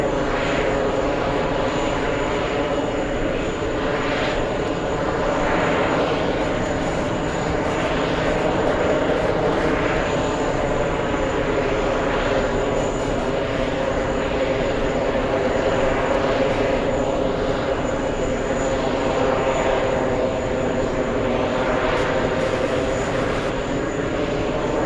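Jet engines of a British Airways Boeing 777 rumble and whine steadily at JFK airport, a continuous broadband roar with a thin high tone running throughout, heard without talk.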